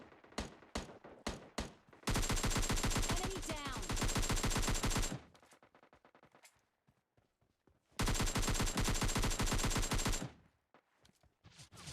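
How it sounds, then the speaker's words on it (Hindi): Loud, close gunfire in the video game PUBG Mobile Lite: a few single shots, then two long bursts of rapid automatic fire, each lasting about three seconds, with scattered shots between them and no talking. "मुझे आगे से और भी गोली चलने की साउंड आती है"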